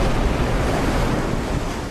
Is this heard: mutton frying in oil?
no